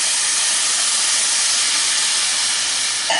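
Green beans and coconut milk going into a hot vegetable curry pan, setting off a loud, steady sizzling hiss that fills the moment without a break, with a small clunk at the end.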